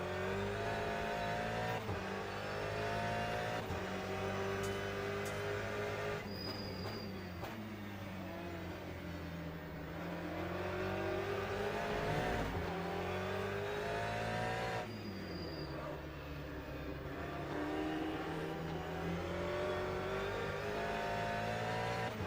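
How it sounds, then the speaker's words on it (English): A simulated LMGTE race car in Le Mans Ultimate at Portimao, on slick tyres on grass, revs loudly and continuously, its engine note rising and falling with throttle and shifts, alongside brief tyre squeals. "You can barely touch the throttle at all on the grass."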